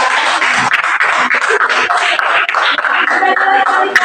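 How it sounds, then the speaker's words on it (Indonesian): Classroom audience applauds in a dense, steady burst of clapping lasting several seconds, with voices mixed in beneath the noise. "kita bisa tepuk tangan buat mereka"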